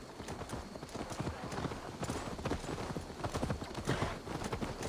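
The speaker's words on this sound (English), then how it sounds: "That's Magni's horse." Steady clip-clop of a horse's hooves in a video game, a continuous rhythmic trot that stays fairly close throughout, with a possible brief whinny and faint game voices underneath.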